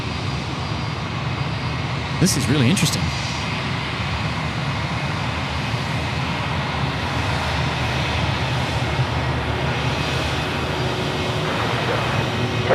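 Aircraft jet engine roaring at Sydney Airport, a broad sustained rumble heard from a distance throughout, with someone speaking briefly over it near the start.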